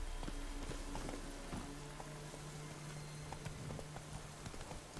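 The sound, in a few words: horse hooves on road in video game The Witcher 3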